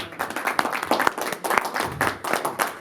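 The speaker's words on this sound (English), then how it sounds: "Please, I will give me a round of applause again, please." An audience at a books and leadership summit in Atlanta claps in a loose, uneven round of applause, with sharp individual hand claps standing out close by and no one talking.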